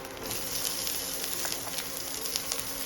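Onions sizzling in a hot pan for vegetable thukpa, a steady, moderately loud crackling fry with fine spitting pops throughout, no voices.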